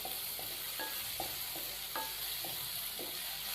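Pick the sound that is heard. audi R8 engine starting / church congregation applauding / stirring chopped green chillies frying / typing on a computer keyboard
stirring chopped green chillies frying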